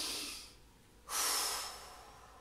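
Breathing during a plank pose in a morning yoga session: a soft exhale, a pause, then a louder, hissing breath rising and fading slowly, close and alone.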